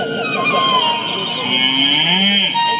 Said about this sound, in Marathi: गाई वासरे हंबरू लागली